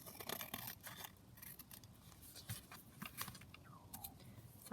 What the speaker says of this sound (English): I can just trim this from behind to get that off.